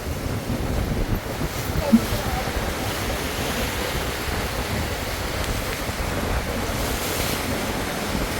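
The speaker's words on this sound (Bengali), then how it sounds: "খুব হাওয়া চলছে" Strong wind blows across a rocky Andaman sea beach, a continuous roar of wind buffeting the microphone mixed with surf washing in the background.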